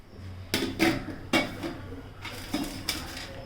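Leftover whole garam masala spices go into a pot of prawn dum biryani, with several clattering knocks and scrapes of metal utensils against the pot, close up and without speech.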